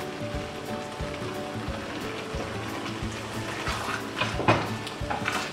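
Chopped tomatoes fry in a pan with a steady sizzle, soft and continuous, with a few light clinks and scrapes toward the end.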